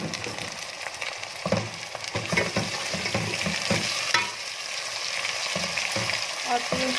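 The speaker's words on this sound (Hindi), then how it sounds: "इसको हिला के तो तकरीबन हम 2 से 3 मिनट तक अच्छी तरह से फ्राई करेंगे" Chakotry sabzi frying in a pan with chopped tomatoes gives a steady, close sizzle, broken up by scraping and stirring knocks.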